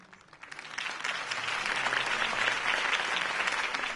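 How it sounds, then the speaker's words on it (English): Crowd applause in the Batman: The Telltale Series video game, a rally audience clapping and cheering that swells from quieter to fuller and stays steady, somewhat distant. "If only Mr. Wayne, my campaign's largest backer, could have heard that applause"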